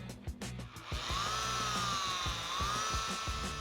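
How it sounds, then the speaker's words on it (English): A rotary polisher buffs a Buick Regal's fender paint with cutting compound, giving a steady, close, high whine that bends slightly in pitch, over a low, rhythmic background. "we're only buffing a portion of our fender to get started"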